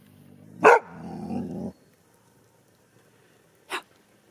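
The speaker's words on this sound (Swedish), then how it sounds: "Var det en hund i skogen?" A dog barks in a forest: one sharp bark followed by a drawn-out, rougher sound, then quiet until a second short bark near the end. It is fairly close, with no talk.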